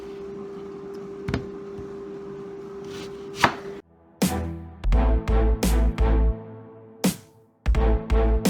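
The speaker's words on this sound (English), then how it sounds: "I cut both the roots off of the onion" Knife chopping an onion on a cutting board, with scattered single cuts at first, then a run of quick, loud, close thuds in bursts, with no talking.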